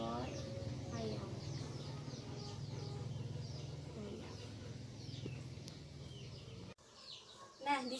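A small flock of thirteen chickens clucks in a single coop, busy overlapping clucks and short calls under a voice speaking steadily through most of the stretch.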